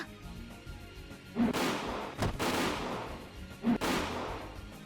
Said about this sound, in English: the real gunshots going off